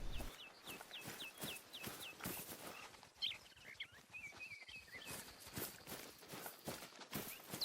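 A rooster in a hunting video game lets out a quick string of short, high calls near the start, over a steady patter of footsteps that keeps going after the calls fade.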